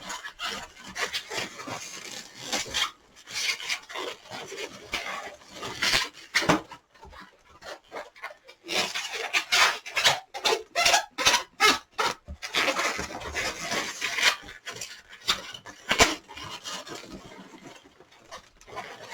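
Latex modelling balloon being twisted and pinched by hand, squeaky rubbing and rasping squeals in irregular bursts with short gaps, close up and without talk.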